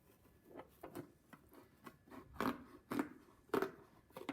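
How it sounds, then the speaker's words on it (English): Scissors snipping into a paper craft owl's wings, a series of small crisp cuts and crunches, close and fairly quiet, with no talking. "makes it easier for the scissors to go in"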